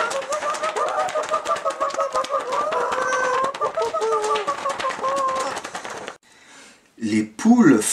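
Puppet-theatre performers imitate noisy hens with their voices, a rapid run of clucking and squawking calls that stops abruptly, followed by a brief vocal outburst.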